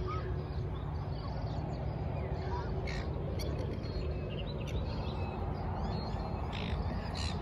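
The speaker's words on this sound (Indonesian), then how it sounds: "Kita samperin burungnya yuk." Birds call in a Melbourne park in the morning, with scattered chirps and caws, geese among them, over a steady wash of outdoor ambience while people talk nearby.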